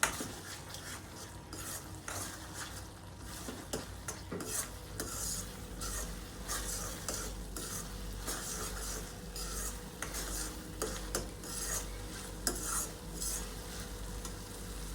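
A spoon scrapes and clatters through pav bhaji vegetables and chili powder in a pan, steady stirring over a low sizzle with a few light metallic knocks.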